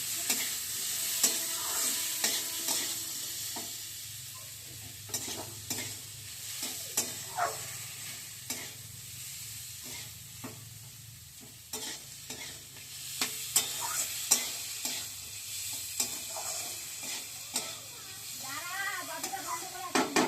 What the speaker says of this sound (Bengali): এটা একটু মশলার সাথে একটু ভাজা ভাজা করবো।